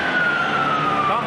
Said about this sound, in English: the siren goes here to end period number 2